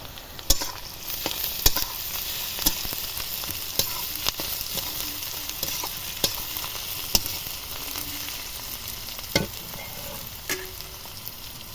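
Reddened onion and crushed garlic frying in a pan, an even crackling sizzle throughout with scattered sharp ticks and spatula knocks against the pan, heard up close without any voices.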